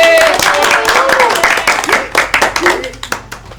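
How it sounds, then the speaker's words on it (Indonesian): A classroom of students claps loudly for the winning group, a dense close burst of applause with voices mixed in that thins into scattered individual claps before fading. "Oke, tepuk tangan dulu."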